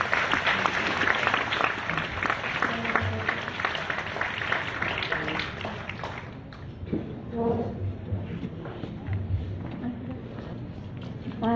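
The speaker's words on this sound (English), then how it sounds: "Let's all give them a round of applause" Audience applause at the St. Teresa of Calcutta 2018 awards ceremony, loud sustained clapping that thins out partway through as a voice speaks over it.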